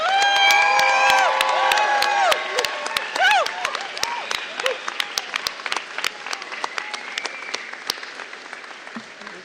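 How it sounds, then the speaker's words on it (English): Graduation crowd at a 2025 university convocation applauding and cheering the graduating class, with whoops and whistles over clapping at first, then thinning to scattered individual claps. "please join me in one last time applauding University graduating class of 2025"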